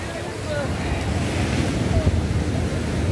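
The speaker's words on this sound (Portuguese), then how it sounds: "aí água, agora vem com força" Ocean waves wash in on Copacabana beach in Rio de Janeiro, a close, loud churning surf with wind buffeting the microphone.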